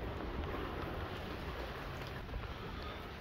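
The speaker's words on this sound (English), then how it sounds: "It's raining pretty good now, so a lot of natural cover here." Rain falls steadily outdoors at Gaan Point, Guam, a constant broadband hiss with faint patter, quiet and unchanging throughout, with no voices.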